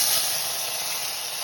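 Chopped churuli fern tips hit hot coconut oil in a pan where mustard seeds have already popped, giving a steady, close, bright hiss with no talk.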